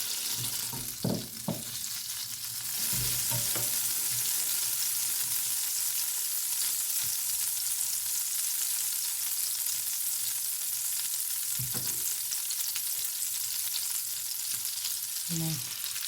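Butter sizzling in a frying pan ahead of sirloin steaks, a continuous hiss that swells after a few early clatters and knocks, with a couple of utensil clinks partway through.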